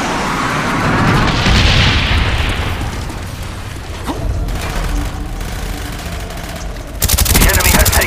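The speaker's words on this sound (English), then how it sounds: "Napalm strike coming in." Napalm strike in the shooter Call of Duty Black Ops: a loud, sustained roar of fiery explosions swells and sweeps across, then fades into rumbling, before a sharp burst of blasts erupts near the end, with battlefield noise mixed in.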